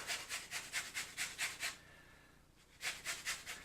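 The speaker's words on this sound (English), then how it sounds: "I'm going to give it a garnish with some lemon zest. I've got my lemon zester here." Lemon zest grated with a handheld zester over cooked broccoli rabe, a quick series of soft raspy strokes in two bursts separated by a short pause, close and fairly quiet with no talk.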